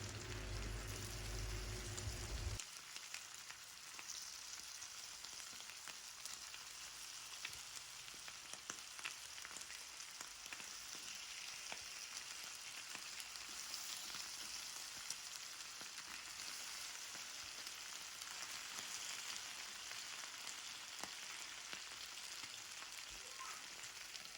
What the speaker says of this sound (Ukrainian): Викладаю на розігріту сковорідку крила і смажимо їх з двох боків на середньому вогні під кришкою